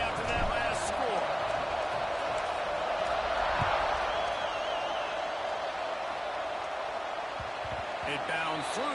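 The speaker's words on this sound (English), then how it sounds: "this crowd is buzzing after that last score" A football stadium crowd buzzes in a steady, dense roar after a score, with a commentator talking over it throughout.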